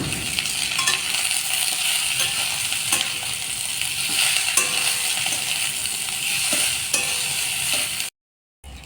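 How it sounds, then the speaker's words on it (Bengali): Boiled amla fries in hot oil with ginger, giving a loud, steady, close sizzle with occasional clinks of stirring. The sound breaks off abruptly just before the end. "এবার এর মধ্যে আমরা এই সেদ্ধ করা আমড়াগুলো দিয়ে একটু ভাজা ভাজা মতো করে"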